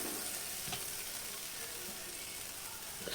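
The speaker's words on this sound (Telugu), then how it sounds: "అంతా కూరకు పట్టేటట్టు ఇలా బాగా కలుపుకోవాలి." Broad beans curry fries and is stirred in a pan, a continuous close sizzle with light scraping stir sounds throughout and no talk.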